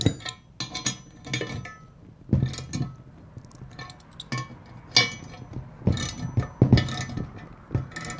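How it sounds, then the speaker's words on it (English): Quick ratcheting clicks and clinks in irregular bursts as a socket wrench tightens bolts on an all-steel Gamber Johnson passenger side mount, heard close with quiet gaps between strokes. "then you take the required socket and just tighten this down"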